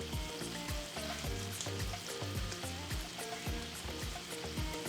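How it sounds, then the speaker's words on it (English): Onions and mushrooms sauté in a pan beside chicken for a carbonara, giving a steady close sizzle and crackle with light stirring clicks throughout and no talking. "we'll start adding our onions and mushrooms right into the same pan."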